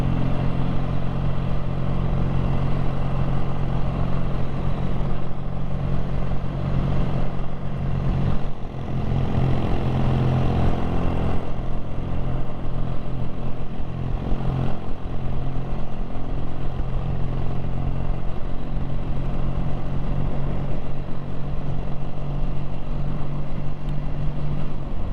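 A BSA A10 650 motorcycle engine runs steadily and loudly throughout, a continuous low throbbing drone with a brief dip midway, with no voices over it.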